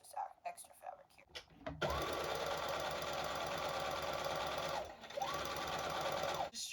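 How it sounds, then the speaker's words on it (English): Sewing machine stitching folded fabric pieces together for a patchwork tote: soft handling clicks, then a fast steady mechanical whir in two runs, with a brief pause between, close and fairly quiet. "I'll fold it so that I can sew two new pieces together like that"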